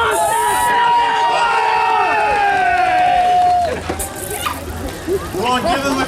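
A roadside crowd in Derry, Ireland cheers on passing runners in a 2022 race, with loud whoops, whistles and shouted voices rising and falling close by, then quieter babble and scattered calls.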